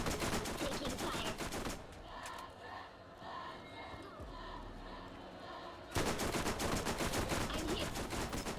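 Video game gunfire from Borderlands, with dense rapid bursts of shots loud at the start, easing to scattered distant combat noise in the middle, then erupting again into heavy continuous fire.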